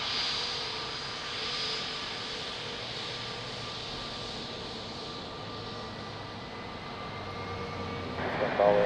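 A jet airliner taxiing at Lisbon Airport, with a steady distant engine roar and whine holding throughout and swelling slightly near the end, while a voice talks over it.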